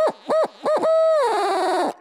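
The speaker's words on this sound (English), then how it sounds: "I just blew the call straight out." A Shock Gobble owl hooter call fitted with a hoot enhancer, blown straight out: three short rising-and-falling hoots followed by a long, loud, wavering hoot that trails off, heard alone and close.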